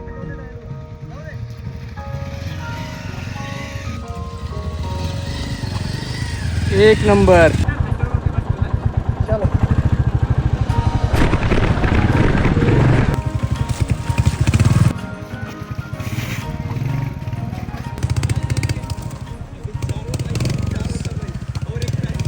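Four motorcycles, including a Royal Enfield and a Bajaj Avenger, pulling away one after another on a trip near Malvan, with engines rumbling and revving through changing gears while people talk over them.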